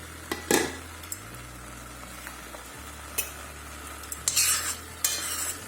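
Spoon stirring a pepper stew in a cooking pot over a steady simmering sizzle, with a few scraping bursts against the pot and no talking.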